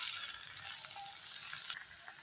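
Sliced onions sauté quietly in a pan, giving a soft, even sizzle with faint hiss and no voices, for a potato kurma.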